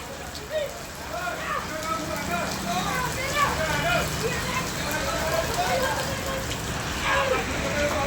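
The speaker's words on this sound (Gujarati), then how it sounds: "વાવાઝોડા સાથે વરસાદ છે" Heavy stormy rain falls in Becharaji under a dark sky, a steady close hiss of drops with a faint windy undertone, while a person talks over it throughout.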